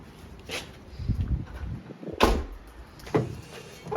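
Doors of a Toyota WiLL Vi are unlatched and opened in turn, giving several close clunks and latch clicks with rustling handling between them.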